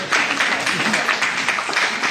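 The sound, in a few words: audience applause after magic trick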